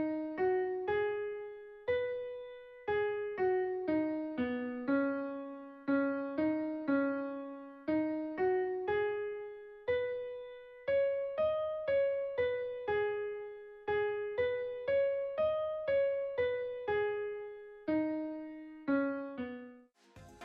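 A video game main theme in B major plays as a calm pentatonic melody of clear, plucked or struck tones. The notes decay evenly in a steady, unhurried rhythm, alone and moderately soft.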